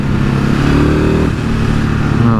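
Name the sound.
motorcycle engine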